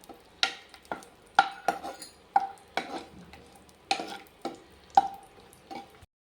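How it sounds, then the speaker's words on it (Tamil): Cashew nuts roast in a pan for sweet pongal while a spatula scrapes and stirs them in about a dozen irregular, close strokes over a faint background. "முந்திரி பருப்பு வறுபட்டுருக்குதுங்க."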